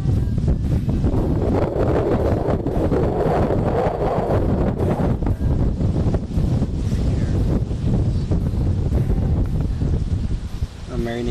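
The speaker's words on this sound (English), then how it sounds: "It's so windy right now, you cannot even imagine." Strong wind blasts outdoors while fishing, a loud continuous roar buffeting the microphone for the whole stretch, with a voice partly buried beneath it.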